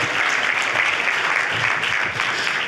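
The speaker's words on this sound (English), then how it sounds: "Clap for Jesus." An audience at a church healing gathering claps steadily and densely for a few seconds, with a faint voice underneath.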